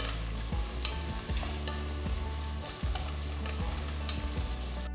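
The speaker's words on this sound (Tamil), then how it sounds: "நறுக்கின 2 வெங்காயம், கீர்ன 2 பச்சை மிளகாய் சேர்த்து வெங்காயத்தை பொன்னிறமா வதக்குங்க" Onions with green chillies sizzle steadily in a hot pan, with a spoon scraping and stirring through them every second or so.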